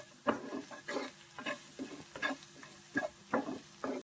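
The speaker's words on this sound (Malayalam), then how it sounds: "നമ്മളിപ്പോ ഇടിച്ച് ചതച്ച് ചേർത്ത ഈ മുളക് നന്നായിട്ടൊന്ന് മൂക്കണം" Crushed chili frying in a turmeric masala for a hotel-style prawn roast: rhythmic scraping stir strokes roughly every half second over a soft sizzle, cutting off abruptly at the end.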